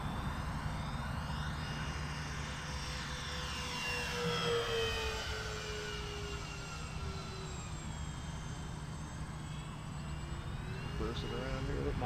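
A Dynam P-61 Black Widow RC warbird, a 1500mm 4S electric model, passes overhead with a steady whine that drifts in pitch as it flies by, over constant outdoor background noise.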